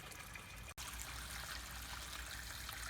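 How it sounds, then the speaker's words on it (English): Small stream of water trickling steadily, the modest flow meant to drive a pico hydroelectric water wheel, a soft continuous close-up burble with one brief dropout. "that's all the water that's going to power the water wheel"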